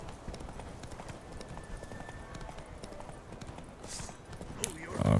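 Hooves of the horse Roach in The Witcher 3 clip-clop at a steady, continuous gallop amid game ambience, with a brief whoosh near the end.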